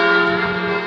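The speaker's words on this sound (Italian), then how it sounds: "sentiamo il suono delle campane" Church bells ringing at the Sanctuary of Saint Anthony in Gemona del Friuli, a steady sustained metallic tolling with rich lingering tones, alone and moderately loud.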